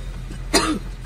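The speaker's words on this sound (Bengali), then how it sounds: "কাশি হচ্ছে এক্সট্রা," A single sharp cough comes close and clear, breaking an otherwise quiet moment.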